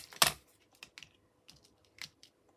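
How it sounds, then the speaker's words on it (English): Red tape peels off a handmade Easter card in short, quiet crackly tugs, one sharp rip followed by several soft scattered pulls and taps. "lift this red tape off, because once this is down, it's down"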